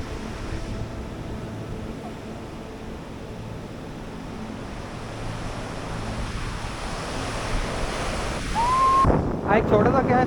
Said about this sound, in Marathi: फक्त समुद्राचा आवाज आणि निसर्ग